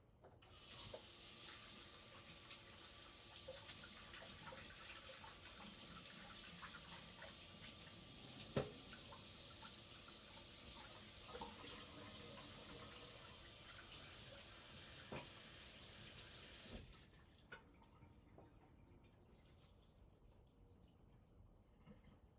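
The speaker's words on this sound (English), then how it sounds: "So okay, I'm gonna wash these real quick, and the cutting board too." Vegetables and a cutting board are rinsed under a running kitchen tap while cooking Filipino bistek: a steady, close rush of water for about seventeen seconds, then the flow stops, leaving faint drips and small handling noises.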